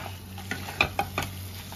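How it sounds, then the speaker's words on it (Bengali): Fried fish heads stirred into spicy masala in a pan for masoor dal, a few sharp scraping strokes of a spatula over a low, quiet sizzle. "মাছের ভেজে রাখা মাথাগুলো দিয়ে দিলাম। দিয়ে এই মশলার সাথে ভালো করে মিশিয়ে নেব।"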